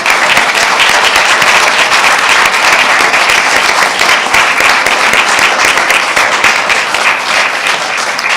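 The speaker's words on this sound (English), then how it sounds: "Let's give them a round of applause." Sustained applause from a summit audience thanking the presenters, a dense steady wash of clapping filling the room at full volume from start to finish with no voices on top.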